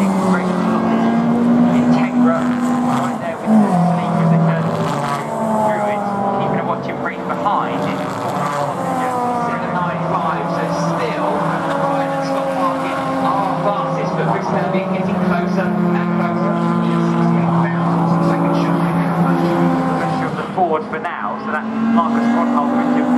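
A Mazda RX8 race car drives at Brands Hatch, its engine droning steadily and loudly with shifting pitch throughout, while a commentator talks over it.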